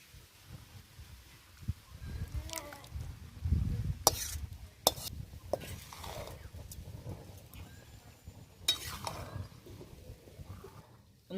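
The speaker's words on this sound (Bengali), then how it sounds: "মাংসটা দিয়ে ভালো করে নেড়ে নিয়েছি।" Meat being stirred into half-cooked chicken biryani rice in a pot, a soft scraping and sizzling churn with a few sharp clinks of the spoon against the pot.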